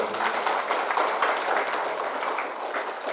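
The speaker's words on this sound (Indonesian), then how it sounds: "Tepuk tangan buat beliau." An audience at an Islamic boarding school gathering applauds steadily, a dense wash of many hands clapping at moderate distance for several seconds without break.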